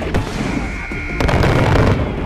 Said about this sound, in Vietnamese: Tụi nó chơi bắn pháo luôn các bạn ơi